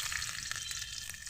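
Black cumin seeds and bay leaves frying in hot oil, a brief dense sizzle with quick crackles and faint stirring, no voices.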